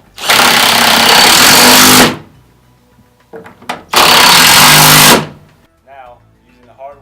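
A power tool drives and tightens bolts on rear seat hardware in two loud, sustained bursts of whirring, each about a second or two long, separated by brief clicks, with a short spoken remark afterward.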